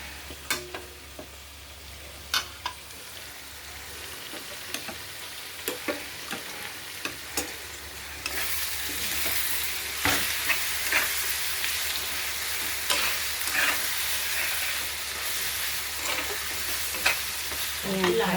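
Onions frying in a pan with oil, a steady close sizzle that swells louder partway through, punctuated by repeated scraping and clacking of a spoon stirring against the pan.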